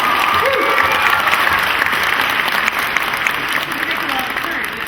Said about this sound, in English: Round of applause for the young gentleman.